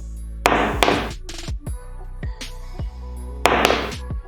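A new battery dropped onto a hard surface lands with dull, short thuds and knocks, several separate impacts without bouncing, close and clear.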